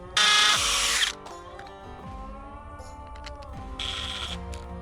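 A power drill drives a Tapcon concrete screw into a pre-drilled hole in short bursts, a loud high whine at the start, softer intermittent grinding in the middle and another whining burst near the end.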